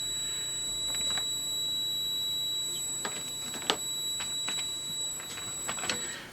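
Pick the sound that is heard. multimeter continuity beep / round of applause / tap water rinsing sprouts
multimeter continuity beep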